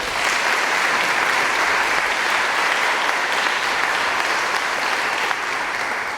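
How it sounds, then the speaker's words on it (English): A school-district audience gives a sustained round of applause, dense and even clapping from many hands that holds steady for about six seconds with no talk. "Let's hear a round of applause for all of them"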